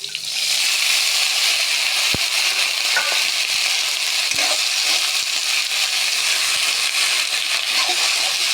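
Gourd stems frying in a hot pan give a loud, steady, dense sizzle throughout, with a few faint clinks and stirring scrapes during home cooking.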